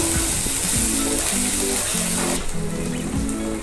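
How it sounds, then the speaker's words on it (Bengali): Chopped onions sizzle in a little mustard oil with whole cumin seeds, a steady close hiss of frying under a faint musical background, without speech. "পেঁয়াজটা ভাজা ভাজা করে নেব।"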